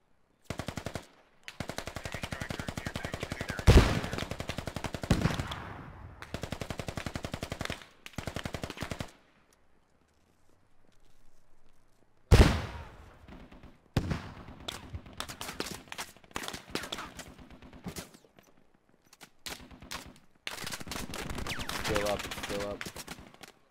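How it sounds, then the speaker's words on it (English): Bursts of automatic rifle fire and single gunshots in the video game Squad, during a fight around Yehorivka airfield, come in rapid rattling strings with short pauses between them, some close and loud, others quieter. "Shoot, then I'll back up and shoot again"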